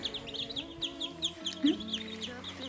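Young chicks peep in a cluster of high, repeated chirps, close by and moderately loud, with a low steady hum underneath and a brief louder call near the middle.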